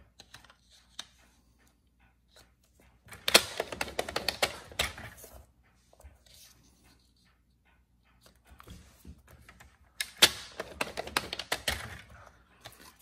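Cardstock being scored on a paper trimmer with a scoring tool, two bursts of close, crisp scraping and clicking clicks separated by a quiet pause.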